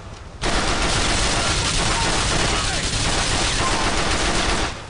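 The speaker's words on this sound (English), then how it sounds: "he's used the automatic pistol on me" Automatic pistol fire in a video game, a loud continuous burst of rapid shots lasting several seconds and then cutting off abruptly.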